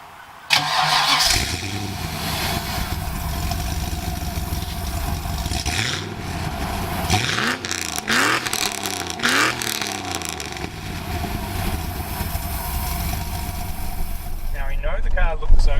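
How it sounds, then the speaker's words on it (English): A 1995 HSV VS Clubsport V8 cranks and catches, then settles into a rumbling idle with a few sharp revs blipped midway, close and loud throughout. "let's hear this pussy purr and let's take it for a drive"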